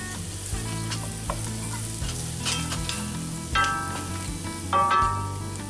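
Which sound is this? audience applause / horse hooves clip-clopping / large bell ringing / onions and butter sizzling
onions and butter sizzling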